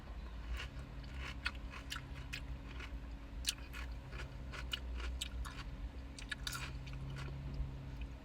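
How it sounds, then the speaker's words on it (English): Crisp, close crunches and wet chewing from someone biting into a crunchy pickle, a steady run of sharp snaps over a quiet room with a faint low hum. "Eat a pickle"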